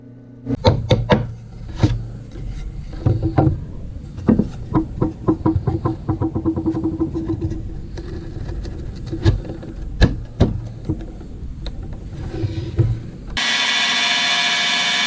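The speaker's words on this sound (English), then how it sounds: "Using a 3/8 inch mortising, 3/8 inch Forstner bit in the drill press, I was able to drill out the mortise" Repeated woody grinding and knocking bursts from a drill press boring a mortise with a 3/8 inch Forstner bit, irregular and close, ending in a steady hiss.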